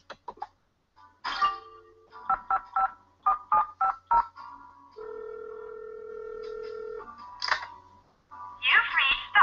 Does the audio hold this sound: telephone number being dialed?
yes